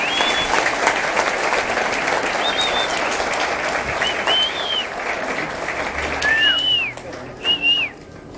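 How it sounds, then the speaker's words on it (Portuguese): Steady applause from a congregation fills a church ceremony honoring teachers, with dense, sustained clapping and a few short whistles rising above it near the end, and no talking. "Uma salva de palmas, por favor."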